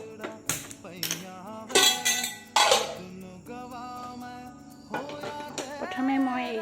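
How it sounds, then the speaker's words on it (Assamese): A metal kadai set down on a gas stove, with clinks and clanks of cookware against the burner under a woman's close, steady speech. "কেৰাহীটো পাতি ল'ম।"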